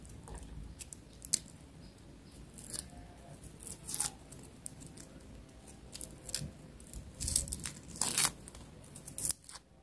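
Freshly sharpened scissors peel and cut an onion, giving irregular close crisp snips, tearing crackles and crunchy bursts scattered over a quiet background, with no talking.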